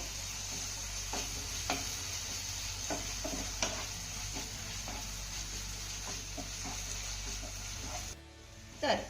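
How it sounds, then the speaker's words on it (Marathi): A dahi-chilli chutney is stirred in a pan over a low flame: soft scraping strokes and light clicks of the spoon come at an irregular pace over a faint, steady sizzle, ending in a brief louder clatter. "ही चटणी आपल्याला एकदा चांगली हलवून घ्यायची आहे"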